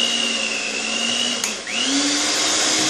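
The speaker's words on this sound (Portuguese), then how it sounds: "Então, gente, vou usar a batedeira." An electric mixer whirs steadily and close as it beats batter for a cooked cornmeal cake filled with brigadeiro, its motor pitch dipping briefly under load and then recovering.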